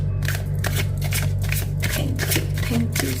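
Tarot cards shuffled by hand in a steady run of soft riffling bursts, close and fairly loud over a constant low electrical hum, with no talking.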